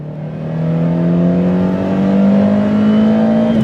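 A 1990 Toyota Corolla FX-GT's 4A-GE engine accelerates from inside the cabin, its loud, rising engine note climbing steadily in pitch over a few seconds with no talk.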